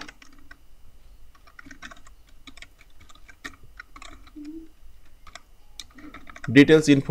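Rapid, light clicking of keys on a computer keyboard in quiet, uneven bursts, close to the microphone, ending with a louder scrape or rustle.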